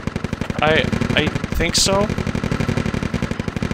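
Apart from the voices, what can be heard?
machine gun fire in a military video game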